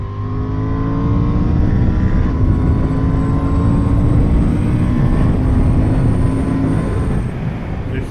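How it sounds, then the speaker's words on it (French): A Honda Hornet 750 twin-cylinder motorcycle accelerates hard, its loud engine note climbing steadily in pitch through a gear over rushing wind, then easing near the end. "les bicylindres, on les reconnaît assez facilement, et là, celui-ci, franchement, elle a une belle sonorité."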